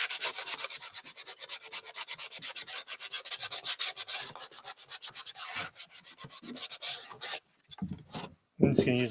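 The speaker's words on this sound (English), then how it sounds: "I'm just sanding the inside ledge of this now that it's dry." Sandpaper rubbing in steady back-and-forth strokes along the inside ledge of a thrifted wooden dresser drawer, close and continuous, then breaking into a few shorter scrapes and knocks near the end.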